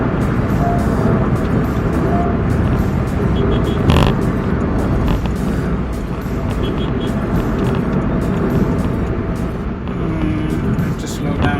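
A Honda City cruising in fifth gear at highway speed, its engine drone and steady road and wind roar running loud and continuous, with a brief louder swell partway through.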